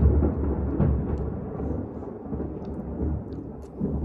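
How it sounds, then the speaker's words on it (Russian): Low distant thunder rolling and rumbling steadily outdoors on a dark stormy day, a faint continuous growl without sharp claps. "Слышали, какой гром?"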